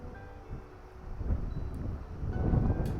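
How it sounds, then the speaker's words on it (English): Strong gusting wind by a river, a broad low roar buffeting the microphone and building in waves, with faint rustling on top. "the wind's getting up so strong"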